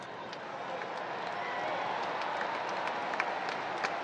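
A tennis crowd at the 2025 US Open, during a fourth-round match between Coco Gauff and Naomi Osaka, applauds in a steady, dense roar of clapping heard from a distance, with a commentator speaking over it.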